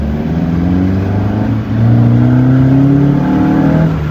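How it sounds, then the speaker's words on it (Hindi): A car engine revs with its exhaust refitted after being removed, on a snowy road toward Gulaba. Steady, loud engine drone with rising tones throughout, a brief dip partway, then stronger revving. "एग्जॉस्ट निकाला था मैंने, फिर से लगा दिया वापस"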